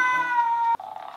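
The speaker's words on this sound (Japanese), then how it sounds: "にゃーにゃー喜んどる。" Electronic toy cat giving a short synthetic meow with a clear tonal pitch, followed by a softer, lower purring tone, close and fairly loud.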